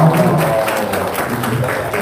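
Brief clapping from a small gathering during a spoken testimony session, steady and moderately loud for about two seconds, with voices mixed in.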